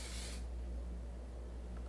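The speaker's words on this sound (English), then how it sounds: "just put a little bit more of that shine spray" A short burst of hair shine spray from an aerosol can, a close hissing spray lasting under half a second, then quiet room tone.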